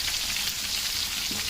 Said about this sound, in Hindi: इस चिकन को तकरीबन फ्राई करते हुए मुझे 10 मिनट हो चुके हैं